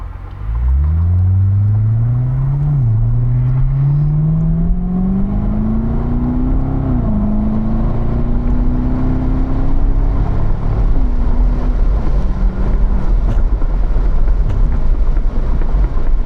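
A car engine hums from inside the cabin, pitch dipping as it downshifts and then climbing steadily under acceleration, with a constant low rumble and road noise and no talk.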